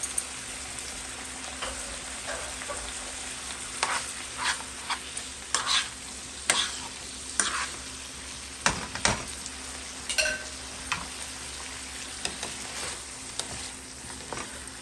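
Shrimp sizzling in a pan while being stirred, a steady soft crackle with scattered clicks and scrapes of the utensil, no talking.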